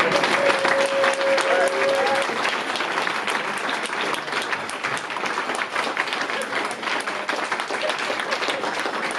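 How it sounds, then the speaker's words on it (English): Audience clapping after a poem-reading at a Rich Mix event, a loud and steady patter of many hands that fills the room and continues without a break, with a brief tonal sound near the start. "Yeah, you can clap if you want."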